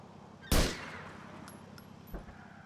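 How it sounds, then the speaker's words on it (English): A sniper rifle fires in GTA IV, one loud sharp crack with a short fading tail, followed about a second and a half later by a fainter, lower second report. "I'm gonna use a sniper here"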